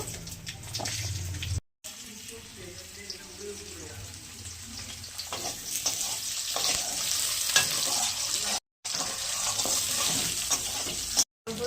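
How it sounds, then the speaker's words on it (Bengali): Potatoes fry in mustard oil with a dried red chilli and cumin seeds, giving a continuous close sizzle with repeated stirring and scraping in the pan. Brief dropouts break the sound a few times. "সর্ষের তেলে রান্না করছি। একটা শুকনো লঙ্কা দিলাম, একটু জিরে দিলাম। আলুটা আগে ভেজে নেব।"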